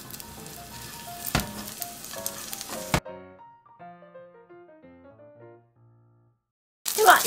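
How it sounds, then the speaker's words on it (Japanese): Broccoli pieces dipped in beaten egg sizzle as they fry in a pan of hot oil over medium heat. A steady, close frying hiss runs for about three seconds, then stops and gives way to light music. "潰したブロッコリーを合わせておいた溶き卵にくぐらせ、"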